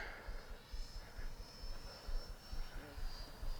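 FMS Futura 64mm sport jet model flying past at full speed, a faint high steady ducted-fan whine over wind rumble, distant and quiet.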